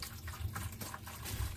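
Liquid poured slowly into a bucket to soak computer boards for tin and solder removal, a quiet steady trickle with soft splashy pulses, close by and with no talking.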